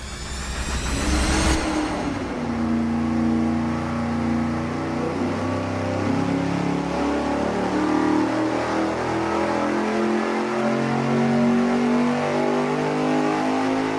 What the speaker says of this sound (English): We have our ProCharger centrifugal blower installed. Now we're going to run it for the numbers and see what it does.